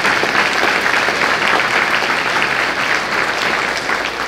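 An audience at a radio show event applauds, dense and even clapping that holds steady for a few seconds at moderate loudness with no voices over it.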